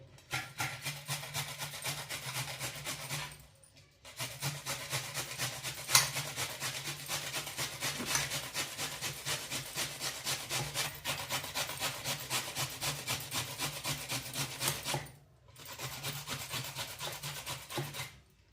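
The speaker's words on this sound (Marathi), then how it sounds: "असा हे सगळा आंबा खिसून घ्यायचा" Rhythmic scraping of raw green mango being grated on a metal grater, fast steady strokes repeating close up, broken by two brief pauses, with no talking.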